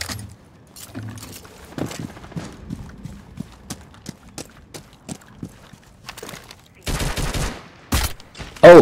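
Single video-game gunshots crack out one by one in an uneven rhythm, followed by a couple of louder sustained bursts near the end.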